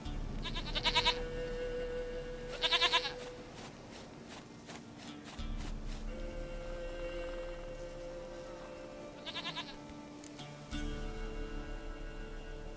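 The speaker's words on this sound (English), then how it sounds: "Goat of mine, dearest, sweetest goat." Goat bleating in The Witcher 3, heard in short bursts among game music and ambience, with a couple of distinct bleats standing out at moderate loudness.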